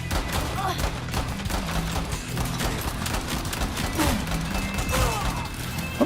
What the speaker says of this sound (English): I think she's got dual pistols.